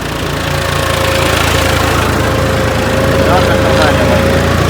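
A company-fitted, unmodified John Deere 5210 tractor idles at low rpm in a steady, close diesel drone with a faint whine, and a voice talks over it.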